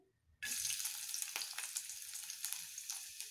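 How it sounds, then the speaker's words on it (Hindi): Chopped garlic hits hot oil in a kadhai and bursts into a loud, steady sizzle after a brief quiet moment, crackling continuously with small pops throughout. "और कटी हुई लहसुन भी डाल देंगे"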